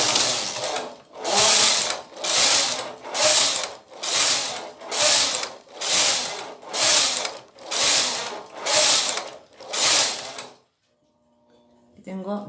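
A domestic knitting machine knits rows of a women's sweater, its carriage sweeping back and forth in about eleven loud, regular ratcheting passes, each a mechanical clatter, before stopping to near silence with a faint click at the end.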